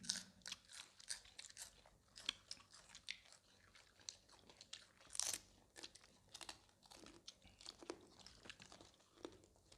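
Crunchy Thai papaya salad being chewed up close, with repeated crisp bites and crunches in an irregular rhythm and no talking.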